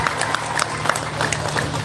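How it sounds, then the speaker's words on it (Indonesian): Crowd applause greets a political party's deputy chairman at an Indonesian campaign rally, a steady wash of many hands clapping with scattered sharper claps, continuing at an even level for the whole stretch. "Tepuk tangan untuk beliau."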